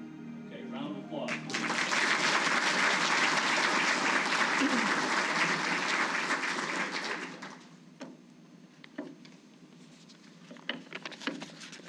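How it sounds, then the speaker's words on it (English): Audience applause at a Defense Logistics Agency Hall of Fame ceremony swells quickly into loud, dense clapping, holds for several seconds, then drops away to a few scattered claps. "Okay, round of applause."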